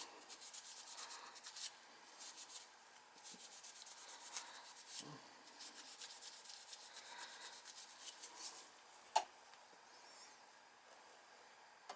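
A Scotch-Brite pad scrubs a small part from a Goodman gas furnace, making quiet, rhythmic rubbing strokes with occasional light clicks, heard close up in a quiet room.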